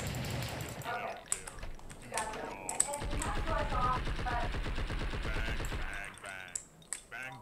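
Rapid automatic gunfire bursts from shooting in the video game Blood and Bacon, staccato rattles running for a few seconds under excited talk from players.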